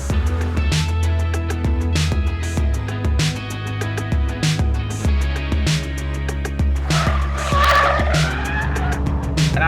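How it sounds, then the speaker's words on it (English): Alfa Romeo sliding as its rear axle lets go at about 160 km/h, engine roaring close by through repeated gear changes while the tires squeal loudly toward the end. "Alfa that's letting go of the back axle at 160 k's"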